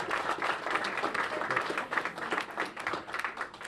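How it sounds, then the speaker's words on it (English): Audience applause welcoming the Mayor of DC and the DC delegate at a statehood lobby day event, a steady, dense wash of many hands clapping from a sizable crowd throughout, with no talk over it. "if you would please applaud to welcome to us the Mayor of DC and our elected delegate, Eleanor Holmes Norton."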